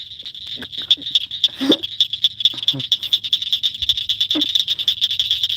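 Frogs croak loudly at night by the water in a steady pulsing chorus, with scattered short knocks and faint voices underneath.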